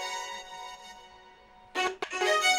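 Layered, sustained strings from a pop track ring out with reverb for about two seconds and fade, followed by a brief burst of brighter sound that cuts in and out.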